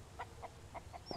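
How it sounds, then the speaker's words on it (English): A chicken in the survival video game Mist Survival gives four or five soft, evenly spaced clucks, faint and close in a quiet scene. "I'm really grabbing that chicken"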